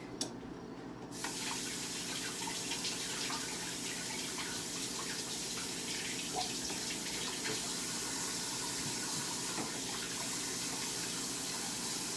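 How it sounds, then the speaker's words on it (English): Hands washed under a running kitchen tap while cooking chicken: a steady, even rush of water that continues throughout, close and moderately loud, with no talk. "I'm actually going to wash my hands real quick"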